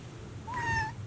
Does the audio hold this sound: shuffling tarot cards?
no